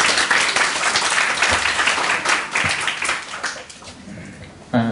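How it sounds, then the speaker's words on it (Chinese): An audience at a live self-introduction event in Taipei claps loudly in sustained, dense applause that tapers off near the end. "掌声欢迎"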